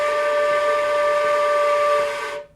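A flute holds one long, steady tone for about two and a half seconds, loud and breathy, then breaks off cleanly. No one speaks.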